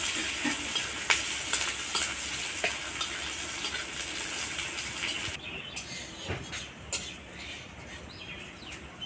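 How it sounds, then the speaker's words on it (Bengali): Chopped onions fry in oil left over from frying fish, with whole dried chillies, making a continuous close sizzle. Spatula stirring scrapes come and go, and the frying quietens partway through. "এবার আমি পেঁয়াজ কুচিগুলোকে লাল করে ভেজে নেব।"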